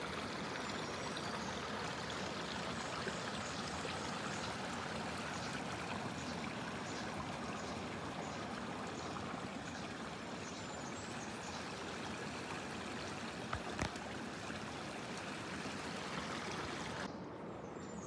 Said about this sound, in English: There's a little bit of a waterfall here.